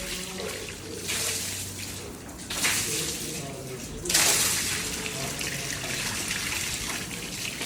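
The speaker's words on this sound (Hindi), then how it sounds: "ओ सारा पानी इधर आ रहा है सारा" Water streams and splashes across a floor inside a house under construction near new washrooms, a steady gushing flow with louder surges, while people talk over it nearby.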